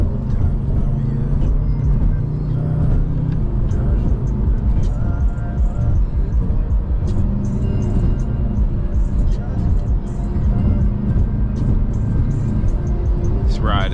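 A 600-horsepower BMW M5 rumbles along a bumpy backroad, its engine and road noise a loud, continuous drone with thumps and rattles from the bumps, while people talk over it throughout.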